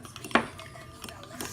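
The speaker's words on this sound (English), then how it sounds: "Stir, stir, stir." Homemade slime mixture stirred in a bowl, with a sharp utensil clink against the dish and soft scraping, close and quiet, under faint voices.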